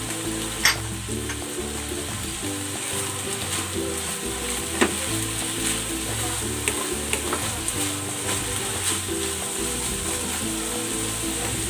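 Onion, green chili and labuyo chili frying in a pan with tofu, a continuous close sizzle with occasional sharp ticks and stirring clicks over a low rhythmic hum.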